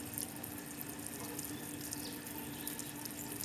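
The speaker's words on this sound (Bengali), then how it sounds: "কলটা বন্ধ করে দেবো" A tap runs steadily, a continuous hiss of flowing water without pause, heard fairly quietly and with no voices.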